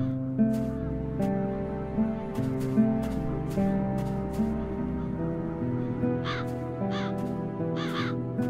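Crows in The Dark Eye video game give repeated harsh caws at irregular intervals, some nearer and some farther, over a sustained musical drone.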